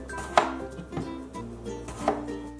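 A knife cuts a peeled cucumber into circles on a cutting board, giving three distinct, close chopping taps spaced unevenly, with no talking.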